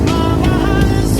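A small motorcycle engine runs close and loud in a short steady burst, a dense buzzing drone with no voices over it.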